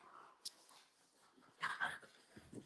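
A sleepy dog whimpers faintly, with a couple of soft, brief whines rising out of a quiet room and no talking.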